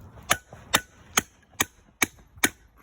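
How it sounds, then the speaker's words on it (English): A hammer tacker drives staples through a cap's brim into a piece of wood underneath, six sharp, evenly spaced thuds about half a second apart, close and alone. "hammer tack staple it like that"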